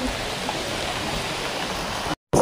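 Strong wind and drizzling rain by the sea, a steady broadband hiss at moderate level that cuts out briefly near the end, with no talk.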